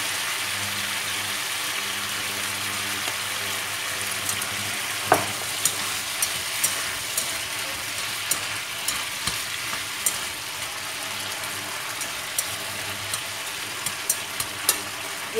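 Squid stir-frying sweet and sour in a pan, with ingredients like fish sauce added, gives a steady close sizzle and crackle throughout and occasional sharp clinks and scrapes of stirring.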